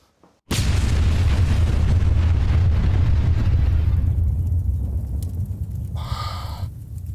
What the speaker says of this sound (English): Fireball.